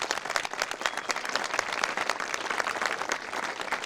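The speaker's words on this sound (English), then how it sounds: "Round of applause." Audience applause at a Dover High School graduation ceremony, a dense, steady patter of many hands clapping together, moderately loud and sustained throughout with no talking over it.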